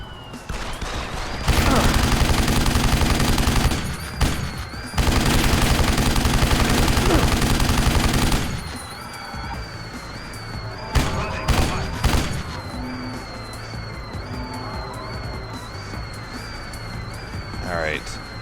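Automatic gunfire in the video game Deus Ex: Human Revolution, two long loud sustained bursts followed by sporadic shots, with in-game music and a person talking faintly.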